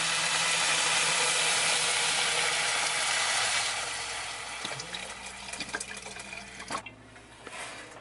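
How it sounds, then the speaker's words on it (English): Chicken broth pours steadily into a pot with a broad rushing splash, tapering off after a few seconds into small clinks and drips. "I'm gonna pour this"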